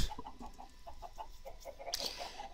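Chickens in the Minecraft video game cluck softly in short repeated bursts, a faint scattered chorus of birds nearby with a brief louder squawk partway through.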